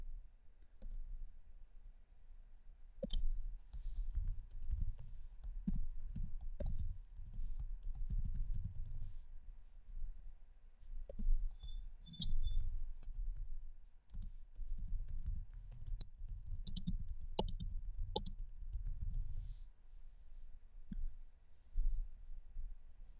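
Computer mouse right-clicks in Power BI, a series of short sharp clicks scattered irregularly over a low background hum, close and fairly quiet, no talking.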